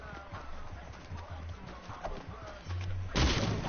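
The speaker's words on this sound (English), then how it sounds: "Yeah, I just heard gunshots." Gunfire rings out in the video game Fortnite, several sharp shots cracking amid game noise, with a louder, denser burst of fire closing the stretch, as players talk faintly underneath.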